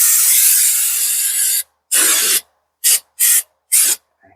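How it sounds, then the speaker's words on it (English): Brake cleaner sprays onto a rusty rear brake assembly of a 2023 Subaru Crosstrek, first in one long close hiss, then in four short bursts. "A little bit of brake clean."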